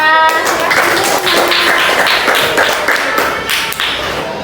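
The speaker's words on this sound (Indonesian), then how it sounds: "Tepuk tangan dulu untuk Nabila." A classroom of students claps for a classmate after a Quran recitation lesson, a burst of distinct, closely spaced hand claps in an uneven rhythm, loud and near, gradually thinning out.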